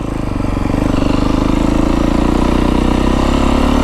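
A 2025 Beta 350RR X-Pro dirt bike engine runs loud and close while being ridden, holding a steady, rapid thumping drone with only slight changes in pitch.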